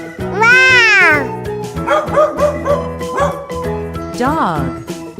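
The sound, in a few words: dog barking sound from animal toy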